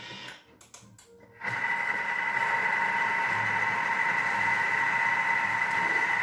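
A Thermomix mixes almond cream for a galette at speed 3. A few quick clicks come first, then a loud, steady motor whir starts and holds constant.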